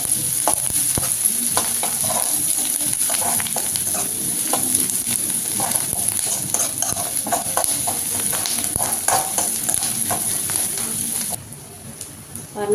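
Chopped onions sizzle and fry in a pan for egg paniyaram, a steady crackling hiss broken by repeated scraping stirs of a spatula, loud and close, with no talk.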